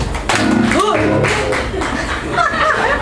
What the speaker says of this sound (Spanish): Des un aplauso fuerte.